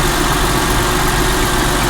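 A salvage car engine with about 163,000 miles idles steadily and loudly nearby, a continuous low rumble with no talk over it.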